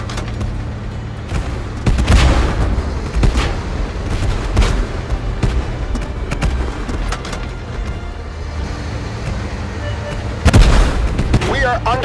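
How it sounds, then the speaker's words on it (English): Artillery bombardment in a war video game: heavy booms and gunfire rumble steadily under battle noise, with a loud blast near the end, and a voice calls out over the din. "We are under bombardment!"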